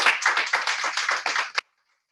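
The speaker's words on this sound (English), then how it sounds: "Please give a loud round of applause and welcome Cheryl back to the Women's Recovery Center." A small audience at a women's recovery center clapping to welcome a guest, a brisk flurry of close hand claps that ends abruptly into silence.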